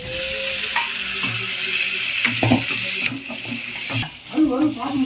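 Chicken skin dropped into a pan with ground coriander and ginger crackles and sizzles steadily, with scraping stirs and clinks of a utensil against the pan over the hiss.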